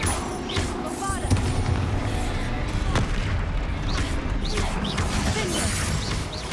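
Bombarda spell explosions and combat blasts in the Hogwarts Legacy video game, a dense run of booming impacts and crashes under shouted spell names and game music.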